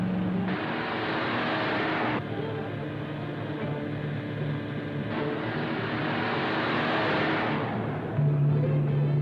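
A car engine runs steadily and loud, with the roar surging and building as the vehicle gathers speed, with no voices.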